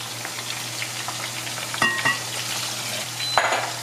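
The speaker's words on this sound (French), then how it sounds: "Je vais travailler un petit peu au fouet avant de le mettre sur l'oignon qui est déjà en train de revenir." Onion sautéing in a pan gives a steady close sizzle as a sauce is worked with a whisk, with a few metallic clinks of utensil on cookware standing out, and no talk.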